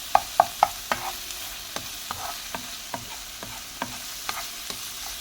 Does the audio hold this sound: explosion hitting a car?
no